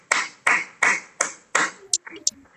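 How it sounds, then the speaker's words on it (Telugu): Children clap on an online video call: five sharp claps in a steady rhythm, each with a short ring, followed by a few softer, scattered noises. "సందీప్యాకి ఒకసారి క్లాప్స్ కొట్టండి."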